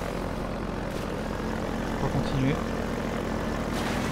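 A helicopter in the video game Half-Life 2 drones with a continuous rotor and engine rumble under someone speaking French in a let's-play commentary.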